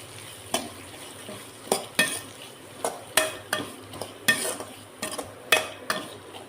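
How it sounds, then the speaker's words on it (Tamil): Cabbage, beans and carrot being sautéed in a pan, with a steady low sizzle and about a dozen sharp scraping stirs of a spoon against the pan at a loose, irregular rhythm, close and moderately quiet, no talking. "சேர்த்துட்டு இதை நல்லா வதக்கி எடுத்துக்கலாம்."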